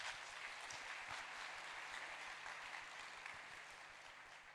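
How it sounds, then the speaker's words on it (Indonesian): Audience applause at a community gathering in Indonesia, steady dense clapping sustained throughout, fairly uniform and gradually tapering slightly toward the end. "Boleh tepuk tangan ya semuanya."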